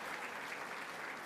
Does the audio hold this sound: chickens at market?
no